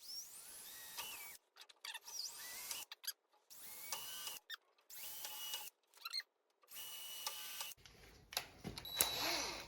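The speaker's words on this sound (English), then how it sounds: "I'm just gonna drill pilot holes here" Several short bursts of a high-pitched power drill whining on and off, boring pilot holes with a 3/32 bit, with brief pauses between runs, close up and fairly quiet.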